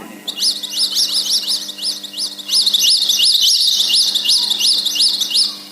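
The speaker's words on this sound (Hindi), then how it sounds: "पक्षी लोग जो पेड़ों के ऊपर बैठे थे वो सब आवाज करने लगे।" Birds chirp in quick, repeated rising tweets, loud and close, in a busy continuous chorus laid over a soft low hum as a sound effect.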